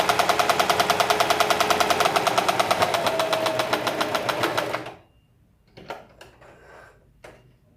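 A sewing machine stitches and backstitches the hem of a simple fabric dish towel, its steady rapid needle chatter running loud for about five seconds before stopping, followed by faint handling rustles and taps.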